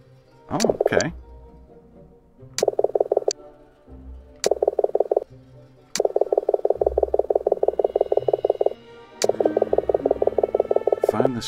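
A frog in the video game Ghost of a Tale croaks in loud, fast rattling trains, short bursts at first and then longer runs, with game sounds and brief noises between.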